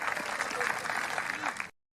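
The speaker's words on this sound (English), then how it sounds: "Big round of applause there for Dave stepping in." A crowd at an outdoor Highland Games event in the Peak District claps steadily and warmly for under two seconds, then the applause cuts off abruptly into silence.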